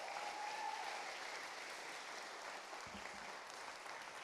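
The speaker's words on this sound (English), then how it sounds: "Give them a round of applause, please." Faint applause from an audience at a university graduation ceremony, a steady wash of distant clapping with no talk over it.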